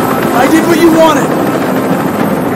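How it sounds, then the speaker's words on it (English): A steady helicopter rotor drone hums throughout, fairly loud, with a game-like synthetic quality and a few faint tonal blips near the start, from the video game Detroit: Become Human. "I can't stand that noise anymore. Tell that helicopter to get out of here."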